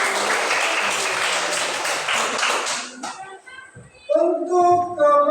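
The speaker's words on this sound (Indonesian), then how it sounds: "Tepuk tangan." A classroom group of students claps for a team's score, a burst of applause for about three seconds that stops abruptly, followed by quiet room sounds and a voice speaking.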